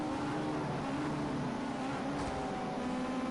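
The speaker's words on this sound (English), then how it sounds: "Look at Radovan's car pull away." Ginetta GT5 junior race cars accelerate hard around the Dubai International circuit, a steady, dense engine roar that holds loud and continuous throughout, with no voices.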